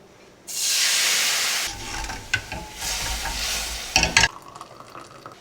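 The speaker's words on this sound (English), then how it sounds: "I'm gonna deglaze this pan to get these drippings" Drippings sizzle and hiss loudly as liquid hits a hot roasting pan, a steady steamy rush followed by scraping and stirring with a few sharp clinks near the end, no voices.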